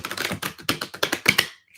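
Tarot cards being shuffled by hand, a rapid run of crisp papery riffling taps in quick bursts, close and fairly loud, ending in a brief pause.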